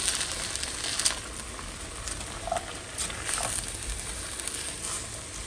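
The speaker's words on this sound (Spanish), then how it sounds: "Aquí le voy a agregar 2 zanahorias picadas. Las vamos a integrar muy bien." Chopped carrots are stirred into a hot frying pan, and the oil keeps up a steady sizzle. Light scrapes and clicks from the stirring come through on top.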